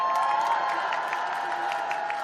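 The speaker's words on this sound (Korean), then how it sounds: "격려의 박수 보내주시기 바랍니다" An outdoor crowd at a Korean election campaign rally in Geumcheon, Seoul applauds a working mother, dense steady clapping with scattered cheers throughout.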